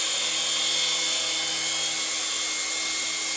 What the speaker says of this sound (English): It's a little difficult to keep a three-channel helicopter in the same location for any amount of time.